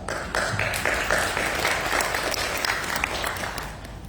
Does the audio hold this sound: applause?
yes